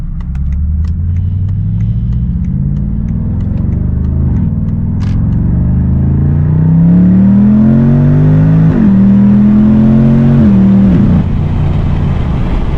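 A BMW M550 accelerating hard from a green light, heard from inside the car: a loud, steady engine roar that climbs in pitch, drops briefly at a gear change, then pulls upward again.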